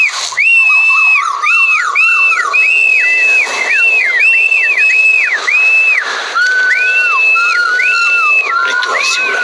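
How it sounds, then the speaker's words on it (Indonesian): Many shrill whistles, rising and falling tones overlapping one another, blown loudly and continuously by several people to call the wind at a kite-fighting contest, with faint crowd noise beneath. "Oh, ini ada yang manggil angin gitu dengan siulan."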